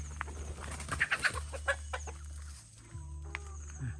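Startled chickens cluck in a coop where eggs are hatching, with a quick run of close, sharp clucks, then a few scattered calls over a steady low hum.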